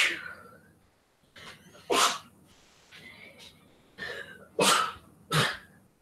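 A sneeze bursts out in a quiet room, then two more sharp sneezes follow close together after a few softer breathy sounds, all fairly near and loud with no speech over them.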